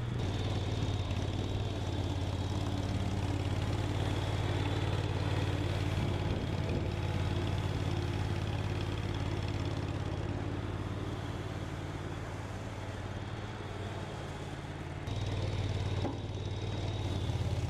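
A Ventrac HB580 tractor with a power broom attachment sweeps plowed gravel aside, a steady loud engine drone and brushing roar running continuously throughout with no talk.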